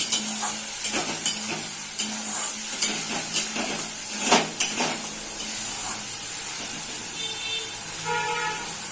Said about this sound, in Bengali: মশলাটাকে ভালো করে কষিয়ে নেবো বেশ কিছুক্ষণ ধরে।